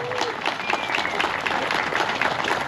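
An audience at a mini rally awards ceremony in Kupiškis claps in dense, continuous applause that stays loud throughout.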